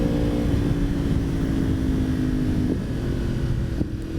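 A 2016 Yamaha R1 motorcycle fitted with a Yoshimura exhaust runs on a test road, giving a loud, continuous engine drone with a steady tonal hum, wind noise over the microphone and small shifts in pitch, with no talking.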